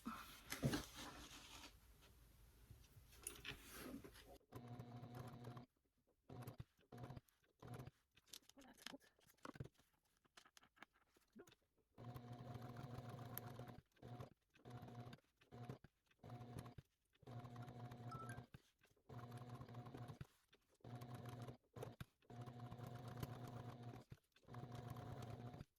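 A sewing machine stitches a quilted design on a bag panel, running in repeated short bursts separated by brief pauses, close but fairly quiet, with a faint voice early on.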